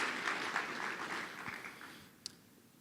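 Conference attendees give the convening panel a soft round of applause at a health policy conference, a faint clatter of clapping that thins and fades after a couple of seconds, ending with one sharp click.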